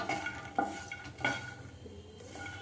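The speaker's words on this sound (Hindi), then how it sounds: "तो पहले हम मखाने को भून लेते हैं चलाते हुए।" Fox nuts (makhana) roasting in hot ghee for dhaniya panjiri, stirred with a spoon against the pan: a soft continuous sizzle broken by two or three brief scraping strokes, close and fairly quiet, with no talking.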